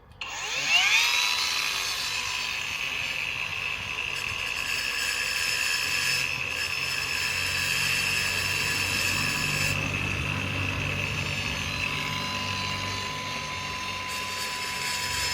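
A grinder works down a wire eyelet on a battery connector with a loud, steady, high whine that holds for the whole stretch. No voices are heard.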